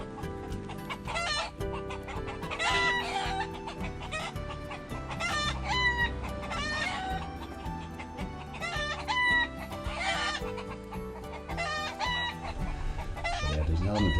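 Roosters crowing and clucking: several loud, close crows with rising and falling calls, repeating every couple of seconds over a busy bed of clucks and farmyard sound.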